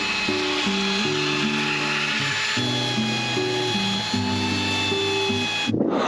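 A power sander whirs steadily against wooden boards for several seconds, a continuous grinding drone with a melodic tune playing underneath.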